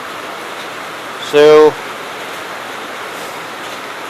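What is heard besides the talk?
rain falling outside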